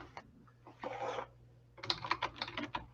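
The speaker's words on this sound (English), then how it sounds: "I'm going to mute real quick so you don't hear me typing furiously." Rapid, furious typing on a computer keyboard in bursts of dense clicks, a short flurry near the start and a longer busy run toward the end, close and moderately loud with no talk.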